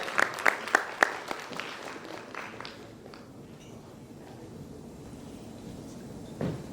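A short burst of loud clapping at an award ceremony, several sharp claps standing out at the start before thinning into a softer scattered patter, with a faint voice near the end.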